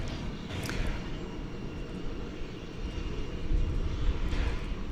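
American Airlines jet airliner in Medal of Honor livery at DFW Airport, a steady broad engine roar heard from a distance, swelling slightly toward the end, with no voices over it.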